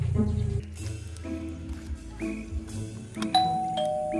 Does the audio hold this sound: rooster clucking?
no